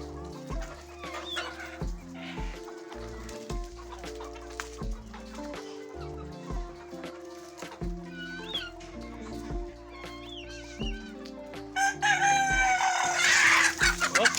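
Roosters crow and chickens cluck among other barnyard noises, including what sounds like a cat meowing, with the loudest crowing bursting out near the end.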